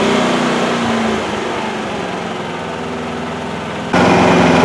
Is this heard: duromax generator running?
yes